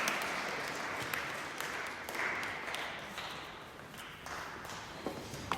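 A church congregation applauds during a Sunday worship service, steady dense clapping from a large crowd that fills the space, soft and somewhat distant, with no talk over it.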